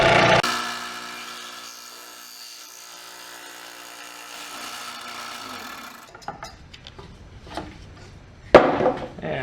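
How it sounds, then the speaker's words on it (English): A scroll saw cutting a wooden funnel piece for a disc sander dust collection adaptor, with a buzzing hum that fades over the first six seconds, followed by scattered wooden knocks and scraping handling sounds. "Next I'm going to cut this out with a scroll saw"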